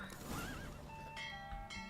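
A horse in The Witcher 3 video game neighs and whinnies with a rising, wavering call, followed by faint hoof clops and game mechanisms under a steady rush of wind, with no talking.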